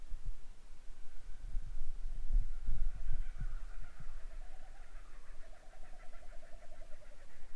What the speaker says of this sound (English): Kookaburras. Oh, they're going off again.